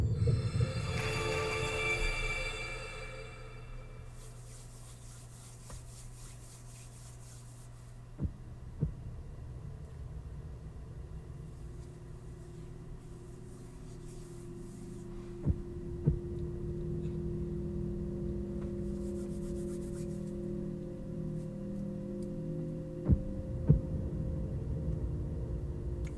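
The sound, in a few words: heartbeat sound in video game Zelda Tears of the Kingdom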